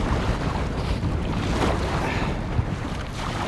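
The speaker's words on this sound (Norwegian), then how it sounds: "Det blåser en del, men jeg må prøve å få runde av odden." Wind gusting over a lake during canoe paddling, a steady loud rushing roar with buffeting on the microphone and faint water sounds beneath.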